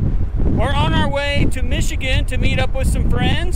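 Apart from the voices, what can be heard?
wind blowing into microphone outdoors in Wyoming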